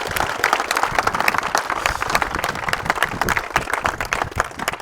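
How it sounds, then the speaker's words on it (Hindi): An audience at a public event in Rajasthan applauds loudly, with dense, steady clapping from a crowd lasting several seconds without a break. "एक बार जोरदार ताली बजाएं सुदेश जी के लिए।"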